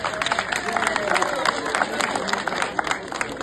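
Audience at a talk on loans and technology in Africa breaks into sustained applause, dense clapping with crowd noise throughout, fairly loud and continuous.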